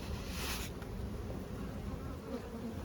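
Dense, steady buzzing of honeybees at an open split hive, a continuous close swarm drone throughout with no talking.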